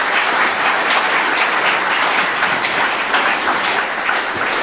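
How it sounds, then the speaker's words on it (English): Audience members at the 2014 Garma panel applaud a panel member, a sustained wash of clapping from a large crowd, even and steady throughout with no talk. "Please give him a big round of applause."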